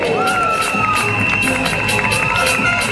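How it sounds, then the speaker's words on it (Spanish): A crowd cheers and shouts for the three winners of a Mister International Panama Este male pageant night, lively and dense, with voices whooping and a bright, excited din, layered with music-like tonal lines. "Fuerte el aplauso para nuestros tres ganadores de la noche."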